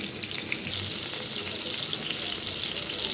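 Chicken fries on a stovetop with a steady, close hiss of bubbling oil and no voices.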